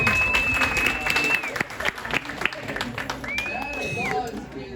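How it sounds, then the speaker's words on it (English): Scattered applause breaks out at an art guild awards reception in Frisco, with voices and whistle-like tones mixed in. The clapping is moderately close and uneven. "That applause is about 30 seconds too early"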